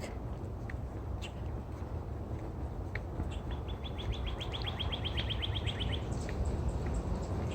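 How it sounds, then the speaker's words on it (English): Birds chirp intermittently over steady low outdoor rumble along Sleepy Hollow Creek, with a quick run of high repeated tweets in the middle, fairly faint and distant. "Nice birds."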